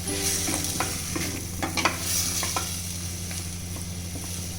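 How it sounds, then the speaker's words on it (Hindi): Boiled potatoes being mashed and stirred into frying spiced masala in oil for a potato-tomato curry, a continuous low sizzle with intermittent scraping and tapping of a spoon against the pan, close, without speech. "तो आलू को हम अच्छे से इसमें मैश कर देंगे।"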